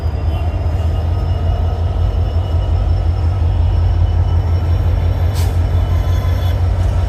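A train runs on a railway line close by with a loud, steady, low rumble and a continuous rolling drone, and a faint high hiss rises briefly near the end. No one speaks.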